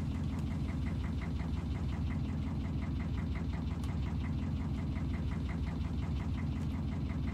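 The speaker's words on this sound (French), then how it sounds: "On va couper le moteur" The engine of a fishing boat on the Barents Sea runs steadily and close by, a constant low throbbing drone with a regular mechanical knock and an even loudness throughout, with no voices.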